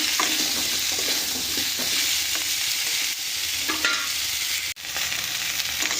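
Radish and taro pieces sizzle loudly in a hot pan, a steady, dense hiss of frying with faint scrapes of stirring, close and without voices.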